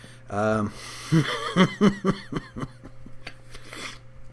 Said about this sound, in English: I just have this thing where the cough lingers forever.